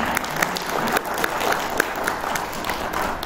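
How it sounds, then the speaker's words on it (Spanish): An audience applauds at a book presentation in the Portal del Diezmo, San Juan, a short burst of steady clapping from a crowd, fairly close and even throughout. "Un fuerte aplauso para ella, por favor."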